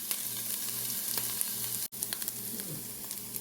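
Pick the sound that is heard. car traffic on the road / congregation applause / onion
onion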